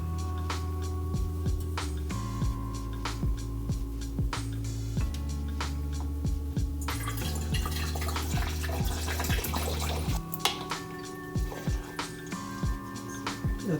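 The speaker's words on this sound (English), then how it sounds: "I am just going to pour the jugs right into the thing using a funnel" Apple cider vinegar pours from jugs through a funnel into a container, a continuous close gurgling trickle whose pitch shifts in steps as the level rises, with a brief splashy burst midway.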